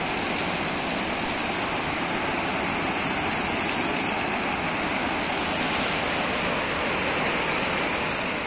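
Glacial meltwater stream at Sumar Nala rushing at night on the way to Gilgit, a loud, steady broadband roar of fast water that holds constant and close throughout.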